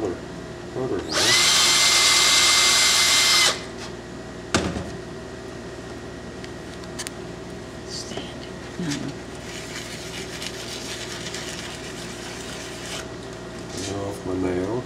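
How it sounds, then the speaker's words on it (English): A power drill bores a hole while a wooden coffee pot is carved, one loud burst of about two seconds near the start, followed by quieter handling, knocks and someone speaking. "So now if I can go ahead and drill them another hole."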